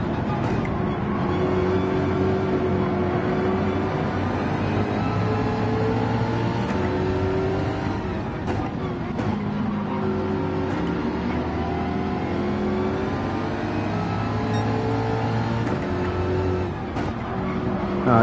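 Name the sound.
racing car engine in a racing video game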